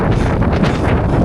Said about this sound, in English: crazy windy conditions.